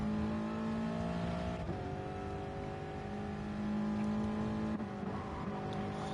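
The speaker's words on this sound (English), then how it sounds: "it's an easy overtake for Pre-MG on his 86 Toyota 86 car" Toyota 86 race car engine in a Gran Turismo Sport race at Lago Maggiore, a sustained high revving drone with steady harmonic whine and brief dips at gear changes, loud and continuous, no talk.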